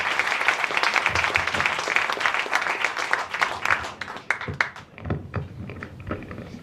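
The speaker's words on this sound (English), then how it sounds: "Please give a round of applause." An audience at a cinematic toast event breaks into applause, a dense wash of many hands clapping that thins out into scattered claps near the end.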